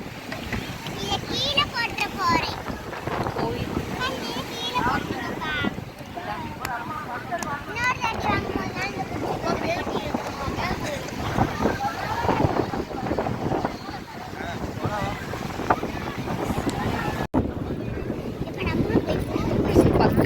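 Strong wind buffets the microphone at Tiruchendur beach while waves wash in continuously, with people, including a child, talking over the gusts throughout.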